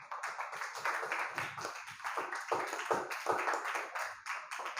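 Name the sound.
audience applause during a lecture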